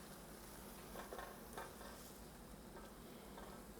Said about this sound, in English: Now we'll just stir it up, very similar to making scrambled eggs